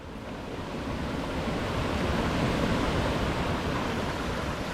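A forest waterfall near Luang Prabang, a continuous broad rushing roar of falling water, steady and moderately loud with no voices.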